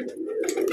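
A pigeon gives a short, low, throaty coo close by, a brief rolling call with a faint tick in the background.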